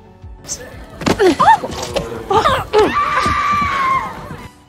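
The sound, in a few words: scream of a woman struck by an arrow, from film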